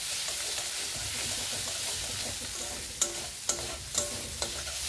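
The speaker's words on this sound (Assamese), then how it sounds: "1 পৰা 2 মিনিট টাইম ফ্ৰাই কৰি লোৱাৰ পিছত এতিয়া মছলাখিনিৰ পৰা তেল এৰিছে" Masala fries in hot oil with a steady soft sizzle, broken by several sharp scrapes and clinks of a spoon stirring the pan, made for a bhapa egg curry.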